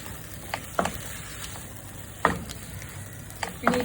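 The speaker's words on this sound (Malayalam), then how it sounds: "ഇത് മസാലയായിട്ട് നല്ലോണം ഒന്ന് മിക്സ് ആക്കി എടുക്കാം. നന്നായിട്ട് മിക്സ് ആവണം." Prawns being stirred into masala for biryani in a pan, giving a soft steady sizzle with a few sharp scraping clicks of the spoon spaced through the stretch, with no voices.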